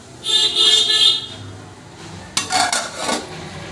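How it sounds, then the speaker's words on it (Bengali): A metal lid clatters and scrapes onto a pot of cooking rice, a ringing metallic rattle up close followed by further clanks and knocks of cookware, with no talking. "চলো ভাতের ঢাকনাটা দিয়ে নিই"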